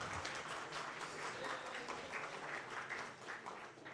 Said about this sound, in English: And yes, applause for that.